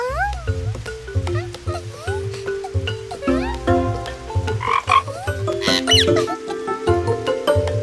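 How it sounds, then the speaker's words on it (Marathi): Loud, rhythmic frog croaks repeat over a bouncy musical backing, with a few squeaky cartoonish calls mixed in. "तूच बेडकाचा आवाज काढलास ना?"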